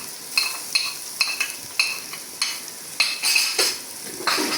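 Ginger garlic paste sizzles in a hot pan while a utensil stirs and scrapes in repeated strokes, close and moderately loud, with no talking.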